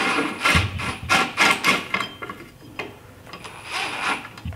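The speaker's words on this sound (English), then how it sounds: "So I'm going to thread this in, and all that's going to do is going to put pressure on the back plate and pull this axle back out at me." A threaded puller is worked in against a back plate to pull an axle from a GM 10-bolt rear end, giving bursts of metallic clicking, ratcheting and clanks in uneven clusters close by.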